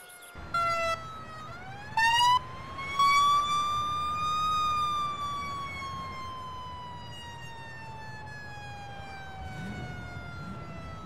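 In the Emergency 4 game's Fairbanks, Alaska mod, a wailing emergency vehicle siren rises and slowly falls in pitch, loud and nearby, with a few short horn blasts early on and traffic rumble beneath.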